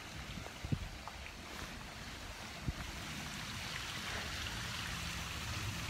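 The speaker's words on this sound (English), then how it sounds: "I'm going to come over here on this bench next to the river." Steady river water flowing beside a bench, a continuous broadband rush of moderate level with a few faint knocks near the start, no voices.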